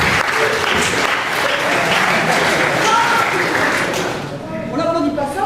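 An audience at an improvised theatre cabaret applauds loudly and continuously, a full dense wash of clapping that thins slightly near the end while voices rise underneath.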